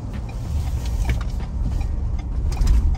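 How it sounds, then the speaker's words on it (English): A 2023 Ford Bronco Outer Banks rolling over a speed bump, heard from inside the cabin as a muffled low thump and rumble under steady road and wind noise, with a second heavier jolt near the end. "We'll see how the composure is over the speed bump."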